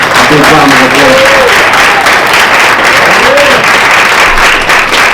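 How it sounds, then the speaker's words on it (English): Loud, sustained audience applause fills a reparations summit hosted by Black Lives Matter Minnesota, with voices and cheers rising over the dense clapping throughout. "Please give Janay Reliford a big round of applause."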